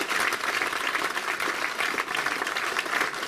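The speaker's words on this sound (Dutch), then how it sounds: "Nogmaals een applaus voor Arsenio." A crowd claps continuously at an award ceremony in Hardenberg, dense and steady applause filling the space, with no clear voices standing out.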